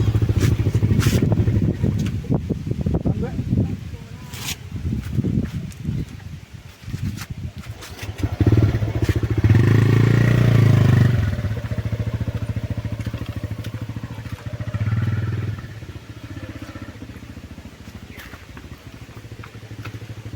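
A motorcycle engine runs nearby, revving and rattling, then settles into a steadier idle that fades a little toward the end.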